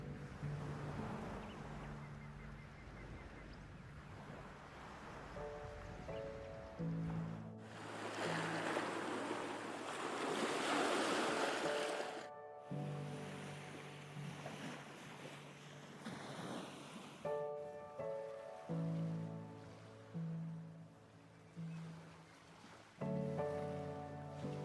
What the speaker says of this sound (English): Surrounding the beach are sturdy cliffs, adding to the raw and impressive beauty of the place.